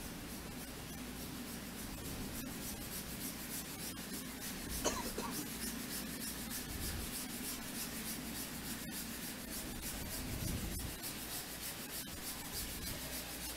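Curling stones slide across pebbled rink ice during a 2018 playoff game, making a steady, gritty, sandpaper-like rumble and scrape that runs the whole time, faint and continuous with no talk over it.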